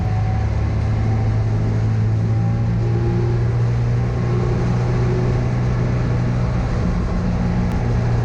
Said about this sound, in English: Jeff took the 510 out for the morning test stint.